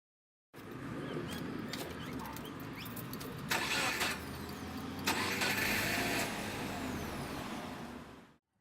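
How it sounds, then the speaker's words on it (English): A car's ignition is turned and the engine cranks and catches, then settles into a steady idle. Two louder bursts come partway through, and the sound cuts off at the end. "He does this by turning the ignition on, and to his surprise, the car engine starts."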